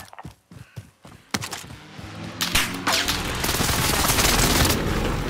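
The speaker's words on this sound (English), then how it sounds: "Enemy precision airstrike." Enemy precision airstrike in Call of Duty: Modern Warfare: a few scattered thumps, then a loud barrage of blasts and rumbling booms that builds and stays heavy and close.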